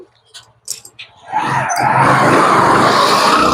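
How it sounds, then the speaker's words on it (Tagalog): A tricycle doing a showoff stunt skids with a loud sustained tire screech that starts abruptly and holds steady to the end, following a few quiet moments of faint voices. "Nag-exhibition yung tricycle, oh."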